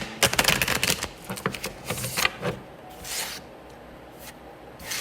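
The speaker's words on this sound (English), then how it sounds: "there is something on the table and I'm just wiping it off" Close rubbing and scraping against a hard surface, a quick flurry of brisk strokes followed by a few slower, softer wipes.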